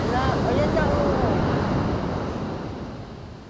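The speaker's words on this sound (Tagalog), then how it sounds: "Ang laki ng alon." Large ocean waves surge and wash in steadily at Pundakit beach, a loud broad roar with wind buffeting the microphone, slowly easing toward the end.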